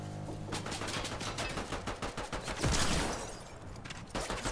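Hand cannon fire in Fortnite Chapter 5, a rapid run of sharp gunshots in quick succession with one heavier, louder blast in the middle before the shooting continues.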